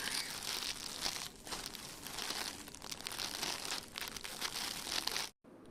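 Packaging of a designer saree crinkles and rustles steadily as it is unwrapped, a continuous close plastic crumpling that stops abruptly near the end.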